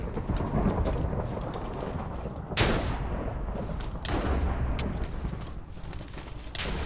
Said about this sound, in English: so now we're going to get struck by lightning